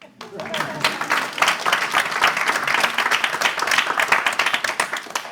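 Audience applause at a stage show, starting abruptly and continuing as a steady crowd of hands clapping, close and fairly loud, with some voices mixed underneath.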